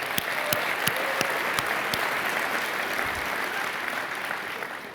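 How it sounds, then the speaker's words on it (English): A crowd at a conference keynote applauds steadily, a dense wash of clapping that holds for the whole stretch with a few sharper claps standing out near the start. "can we give LV and Cassie a round of applause"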